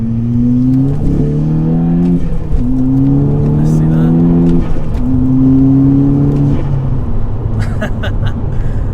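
A tuned 300 bhp VW Golf GTI Edition 30 with an R Tech Stage 1 remap accelerates hard, its engine note climbing through repeated rising sweeps with brief drops at gear changes, loud from inside the cabin, while someone speaks briefly.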